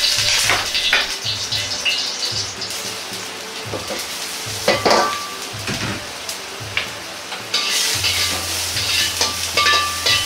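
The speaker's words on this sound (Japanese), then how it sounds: "生姜を炒めます。" Ginger stir-fries in a small amount of oil in a pot, giving a steady close sizzle and crackle with occasional clinks and scrapes of a utensil against the pot.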